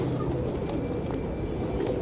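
Pigeons coo on a riverside rooftop in Jhelum where about thirty birds are kept, a steady low cooing at close range over a dense background murmur, with no one talking.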